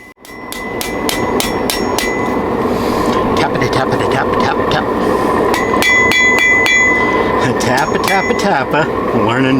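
Hammer blows on hot steel during taper forging practice, sharp ringing metallic strikes in rapid bursts close by, with a continuous roar underneath and talk in between.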